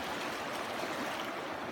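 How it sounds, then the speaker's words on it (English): A fast river rushing near a house on the Methow, heard as a steady broadband wash of moving water, even and unbroken, moderately loud with no voices. "this water's just screaming through here."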